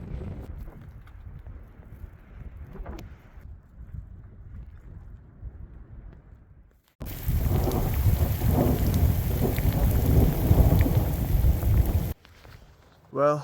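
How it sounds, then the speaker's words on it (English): Steady rain patters throughout on an outdoor trail, turning to a heavy, loud downpour midway before easing again, with low rumbling thunder underneath. "it has been raining all day"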